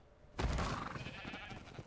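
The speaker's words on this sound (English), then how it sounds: "Run, sheep, run." A single sheep in Ark: Survival Evolved lets out one sudden, wavering bleat that starts sharply and trails off over about a second and a half, fairly close and alone.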